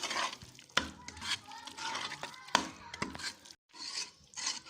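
A spoon scrapes and stirs palak paneer in a pan over a soft sizzle, with irregular scraping strokes and sharp knocks against the pan, close and fairly quiet.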